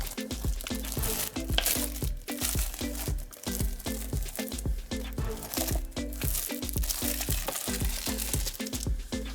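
Thin plastic foil wrapping is peeled off a De Agostini Polonez 1500 partwork issue. The close, steady crinkling and rustling runs unbroken throughout, with no talk.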